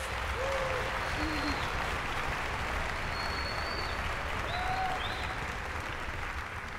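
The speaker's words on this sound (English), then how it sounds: "Let's give them a round of applause" An audience at the 2024 All City High School Music Festival in Philadelphia claps in a steady, sustained round of applause, fairly distant and even, with a few faint whistles over it.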